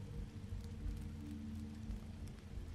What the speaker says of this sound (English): It's the rain that's like hitting, but like not hitting us